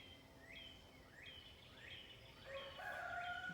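A rooster crows in the distance, a faint rising call repeated a few times over quiet background hiss.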